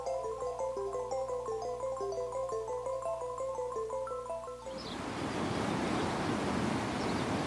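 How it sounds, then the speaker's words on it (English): A swift mountain stream rushing turbulently, a steady broadband hiss of churning water that comes in abruptly after a passage of gentle musical tones and continues to the end. "Consider, for example, this swift mountain stream."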